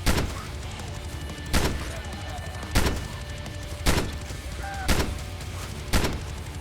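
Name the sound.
gunfire from guns in video game VEIN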